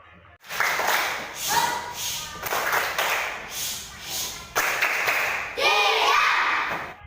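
Schoolchildren in a classroom perform the 'tepuk diam' clapping routine, bursts of rhythmic group clapping in short bunches with pauses, mixed with children's voices chanting along.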